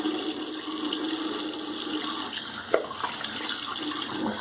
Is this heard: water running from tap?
yes